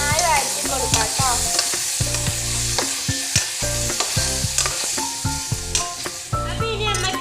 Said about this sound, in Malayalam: പിന്നെ നമുക്ക് നന്നായി വഴറ്റി കൊടുക്കാം കേട്ടോ.